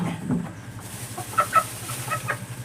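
A newly bought hen clucks, a few soft, short clucks in a row over steady background noise in a garden setting.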